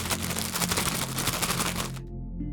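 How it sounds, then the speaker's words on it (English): A small plastic sandwich baggie full of moon rock cookies is crinkled and shaken close up, a dense rustling rattle for about two seconds that then stops abruptly. "that is the sound of a little sandwich baggie full of what Mama Haustoria calls moon rocks"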